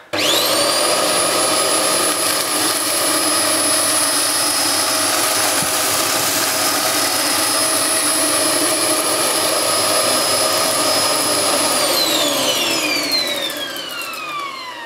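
A loud Hoover Globe GL1103 bagless upright vacuum cleaner roars continuously with a high whine, then the motor winds down as its pitch falls at the end.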